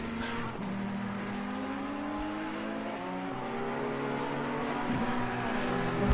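Race cars in a racing video game, a McLaren chasing a Ferrari, with steady high-revving engine whine rising in pitch through gear changes, several engines overlapping near and loud.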